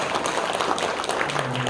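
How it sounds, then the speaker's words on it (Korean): A church congregation claps in encouragement during a Sunday service, a steady, fairly even patter of many hands filling the room throughout. "격려의 박수 한번 드리겠습니다."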